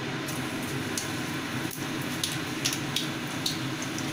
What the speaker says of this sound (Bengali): তেল গরম হয়ে গেছে গ্যাসটাকে সিম করে এবার শুকনো লঙ্কাটা ফোড়ন দিয়ে দিলাম সাথে দেওয়া হচ্ছে সামান্য কালো জিরে